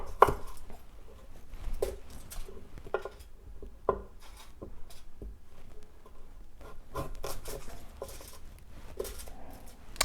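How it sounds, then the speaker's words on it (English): A knife chops a carrot on a cutting board, giving close, moderately quiet knocks at an irregular rhythm, with light rubbing between cuts. "Then cut the carrot in half, and in half again."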